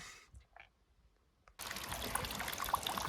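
Rain at the Launceston Show: after a quiet opening with faint, distant sounds, a steady, dense wash of rainfall abruptly begins and continues, trickling and pattering close by.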